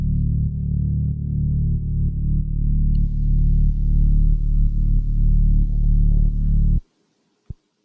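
A loud, gritty sub bass drones steadily for several seconds with a distorted buzz, then cuts off abruptly, followed by a single short thump.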